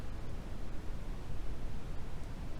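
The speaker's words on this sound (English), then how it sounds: "Now let's switch to brown noise." Brown noise plays as a deep, muffled rumbling wash concentrated in the low end, with the highs strongly rolled off. It is steady and smooth with no voices.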